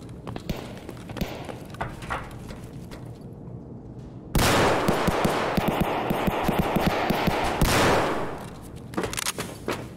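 Single SVD rifle shots in an Escape from Tarkov raid ring out as sharp, loud cracks in steady semi-automatic succession, with a dense burst of gunfire in the middle stretch and background noise between shots.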